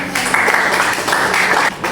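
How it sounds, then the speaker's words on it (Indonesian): A class applauds a presenter after a lesson, a dense, steady patter of clapping hands filling the room for about two seconds, close and fairly loud. "Oke, kita beri tepuk tangan."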